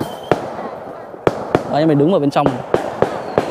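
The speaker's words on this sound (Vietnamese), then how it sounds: "gia đình đang chuẩn bị đốt pháo cho ông bà" Firecrackers set off by a family for Tet in an ethnic Kinh village in China, sharp loud bangs at irregular intervals heard from indoors, with people talking and a voice speaking over them.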